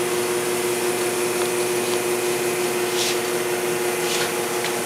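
An automatic machine that opens, fills and heat-seals pre-made pouches with a bar sealer and pinch-pull fingers hums loudly and steadily, with faint mechanical ticks and a couple of brief hissing bursts over a constant drone.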